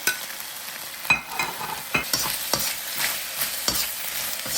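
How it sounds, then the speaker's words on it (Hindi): Chilli and the white bottoms of spring onions stir-fried over high heat, a steady sizzle broken by several sharp scrapes and clacks of the spatula against the pan, close up with no talking. "बस तेज आंच पे इसको स्टर करना है आपने से, ताकि हल्का हल्का कच्चापन खत्म हो जाए।"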